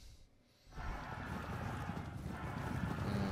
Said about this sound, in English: At least some of their cavalry units are now charging away